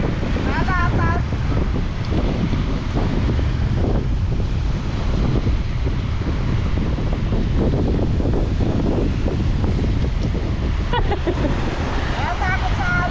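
Ocean waves surge and break around a boat at sea, a loud continuous wash of water heavily buffeted by wind hitting the microphone.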